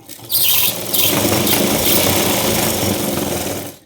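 A sewing machine stitches the hook-and-loop strip on a blouse in one short, close, continuous run that starts abruptly, stays loud and fades near the end.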